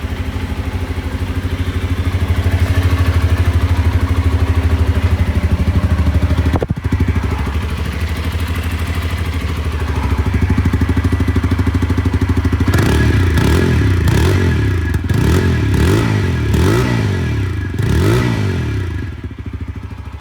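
A TVS Apache RTR 160 Dual Channel ABS motorcycle idles with a steady, close exhaust note, then is blipped through a quick series of sharp revs near the end.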